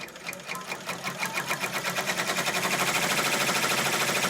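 A sewing machine stitching at about 500 stitches per minute, with a steady mechanical rattle whose rhythmic pulses grow smoother and louder as it speeds up, heard close and without talk.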